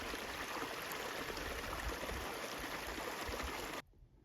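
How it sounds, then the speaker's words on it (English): A small natural spring gurgles and burbles as it flows out of the ground in the Eastern Sierras, a steady close water sound that cuts off abruptly near the end, with no talking. "This one's a little gurgler."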